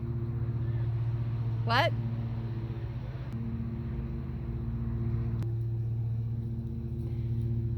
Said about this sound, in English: every single small engine has to go and every animal has to make noise